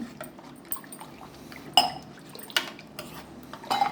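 A spoon stirs lime juice with condensed milk in a glass, making sharp clinks against the sides over a soft liquid swirl, with several distinct taps.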